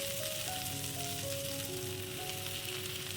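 Mustard greens land in hot oil in a Bengali home kitchen, a steady bright sizzle of frying that runs loud and continuous throughout, with faint tonal music underneath.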